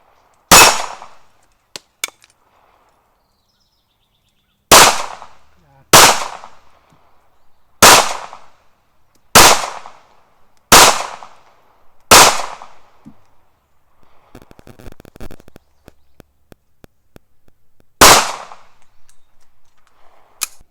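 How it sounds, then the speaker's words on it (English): Ruger LCP Max pistol fired on a range, nine loud, sharp shots spaced one to three seconds apart with short echoing tails and quiet gaps between. "so let's get back to shooting"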